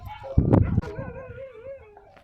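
Dogs near the Uyuni salt flats in Bolivia bark and howl at a passer-by, a loud burst of barking followed by a drawn-out wavering howl fading away.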